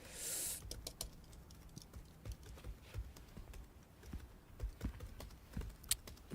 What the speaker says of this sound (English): That typing is aggressive.